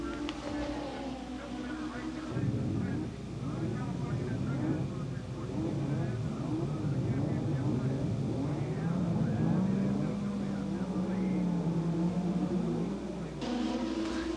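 Race cars roar down a track straight in a cluster, their engines droning and rising as they pass while a narrator talks over them throughout.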